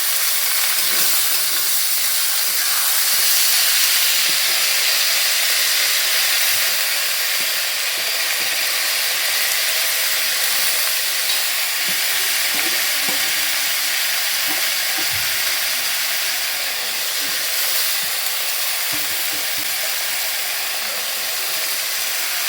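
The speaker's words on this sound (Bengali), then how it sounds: "ডালটা তাও একটু ছেড়ে দিচ্ছি তেলে" Soaked lentils and rice fry in hot oil for khichuri, giving a steady, dense sizzle and hiss that continues evenly throughout, with faint stirring clicks underneath.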